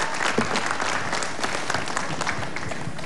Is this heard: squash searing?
no